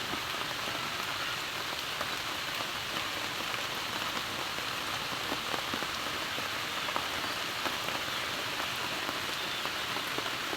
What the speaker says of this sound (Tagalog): Oo po, malakas na po ang ulan.